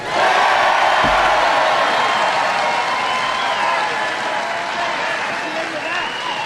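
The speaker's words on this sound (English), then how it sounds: "You applaud if you like it." A large crowd at a Trump rally bursts into loud, sustained applause mixed with cheering and shouts, a dense continuous roar that holds steady throughout before easing slightly at the end.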